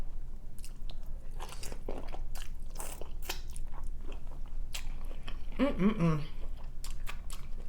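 Shrimp from a seafood boil is bitten and chewed close to the mic, soft wet mastication with a few crisp crunches and a louder squishy bite near the end, while a voice hums briefly.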